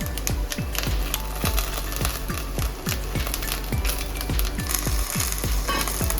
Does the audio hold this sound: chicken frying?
yes